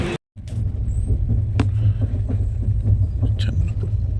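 The Pandiyan Express pulls out of Tambaram station with a steady, loud low rumble from the carriage and track, a few faint clicks and knocks on top, and no talk.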